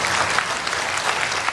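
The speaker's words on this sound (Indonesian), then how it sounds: "kita tepuk tangan untuk jawaban paslon 2, paslon 3, dan juga masyarakat transportasi" A studio audience at a 2017 Jakarta gubernatorial election debate applauds the candidates' answers, giving a brief, dense, even burst of many hands clapping that lasts under two seconds.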